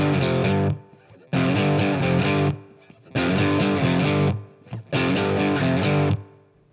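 Distorted electric guitar plays power chords in an intro riff. Four loud, close bursts of chugging chords are cut off by short silences, played alone with no talking.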